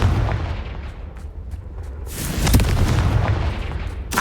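A Confringo fire spell erupts in Hogwarts Legacy with heavy booming blasts and rumbling bursts, loud and dense, the impacts rolling into one another over a few seconds.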